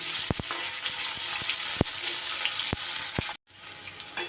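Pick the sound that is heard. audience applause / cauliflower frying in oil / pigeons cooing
cauliflower frying in oil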